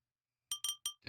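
Glass clinks in a peculiar dinner video game, three sharp, bright taps in quick succession after a silent start, then a fuller rattling clink.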